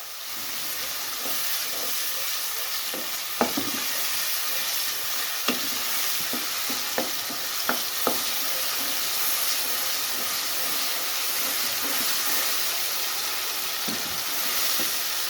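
Turnips frying in a pan sizzle and hiss steadily as water goes in, with a spoon scraping and clinking the pan now and then during stirring.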